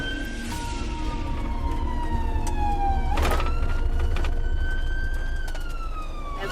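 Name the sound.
ambulance siren while driving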